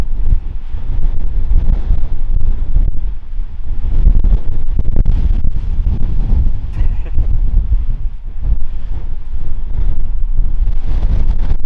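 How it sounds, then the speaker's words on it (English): Strong wind roars and buffets the microphone continuously in open North Dakota country, a loud low rumble with gusting surges throughout. "As you can tell, it's pretty windy."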